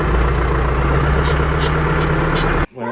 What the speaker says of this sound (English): We just use a tractor.